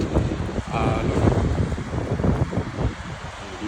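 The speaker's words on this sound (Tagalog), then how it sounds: "Ganda ng alon." Ocean waves and steady wind at Venice Beach, a continuous loud rush of surf with gusting wind noise buffeting the microphone throughout, no distinct break rhythm standing out.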